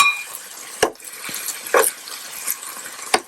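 Peppers drop into a pot of Thai chicken coconut soup with a few sharp, close clinks and clatters of metal and utensils spaced over a few seconds against a faint steady background.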